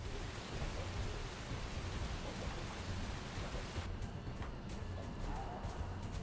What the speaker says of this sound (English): No more rain.